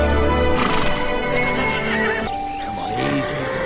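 A horse neighs loudly and close, a strong whinny with a shuddering tail, over a dense, steady background layer.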